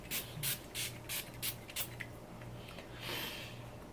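A rapid series of about six short, close bursts of makeup setting spray, followed by a longer, softer spritz.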